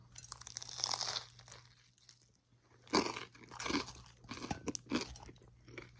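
Crispy pepperoni pizza crust is bitten into, giving several loud, close crunches with chewing in between, scattered over a few seconds with no talk.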